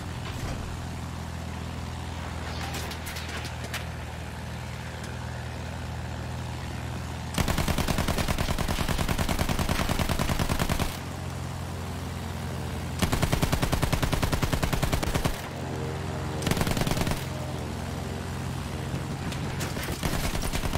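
Enemy gunfire rattles through a Battlefield 1 multiplayer match, sustained loud automatic bursts over a constant engine rumble, with several heavier stretches of firing breaking in and out.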